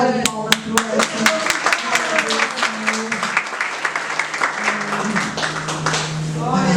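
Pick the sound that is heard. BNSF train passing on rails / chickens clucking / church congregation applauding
church congregation applauding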